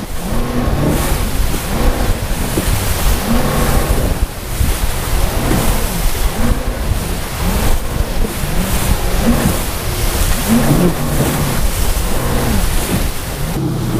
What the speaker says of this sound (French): Le déferlement, il est là.